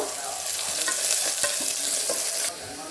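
Chopped onions sizzle steadily in a hot pan for a chicken curry, a bright continuous frying hiss with faint stirring scrapes, close by and with no talking.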